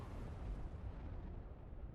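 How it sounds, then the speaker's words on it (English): An explosion in a Star Trek video game, a dense low rumbling blast that fills the whole moment and fades slowly, distant-sounding and fairly quiet, with no talking. "Nice little explosion there with the D20"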